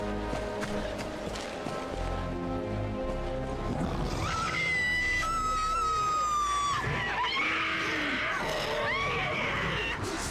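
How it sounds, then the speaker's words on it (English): Stock scream sound effects in the PC game Lord of the Rings: The Third Age, several shrill screams in quick succession over busy battle noise and music. "are those 3 stock scream sound effects right back to back?"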